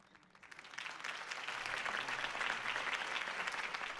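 A crowd applauds a campaign speech in Batman: The Telltale Series, the clapping swelling in over the first second and then holding as a steady, moderately distant wash with no voices on top.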